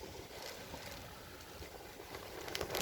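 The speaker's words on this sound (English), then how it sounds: "the wind's blowing like crazy" Strong wind roars steadily into the microphone during a summer thunderstorm, a constant broad rush with gusts swelling near the end and no one speaking.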